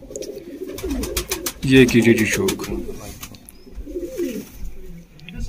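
A Kamangar bloodline pigeon coos in low, rolling bursts close by, while people talk over and around the calls throughout.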